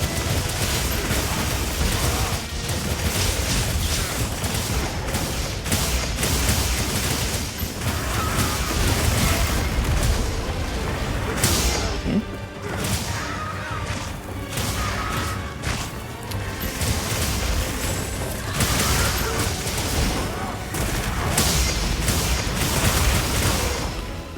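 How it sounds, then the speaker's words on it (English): Dense, continuous explosions and crashing impacts from a Monster Hunter hunt, loud and layered for the whole stretch with rumbling booms and bursts and no clear pauses. "A lot of explosions."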